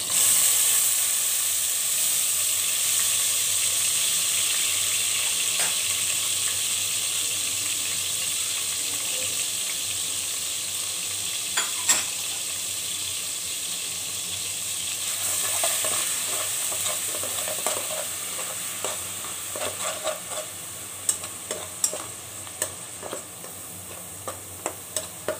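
Onion paste made from four local onions hits hot oil in a pan for chicken tikka masala, giving a steady loud sizzle throughout, with scattered sharp clicks and scrapes of stirring toward the end.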